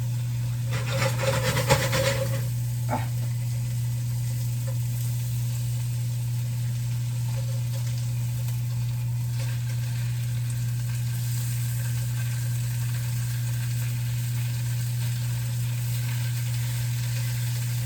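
Eggs frying in a pan, a soft steady sizzle over a constant low electrical hum, with a brief crackling flare near the start before settling into a quiet, even hiss.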